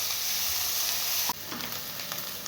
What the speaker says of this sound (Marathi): लालसर रंग तर कांदे परतायचे